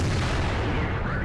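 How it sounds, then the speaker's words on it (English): A heavy tank cannon shot in World of Tanks, a loud booming blast with a rumbling tail filling the short moment at close range. "Aim, shoot, miss."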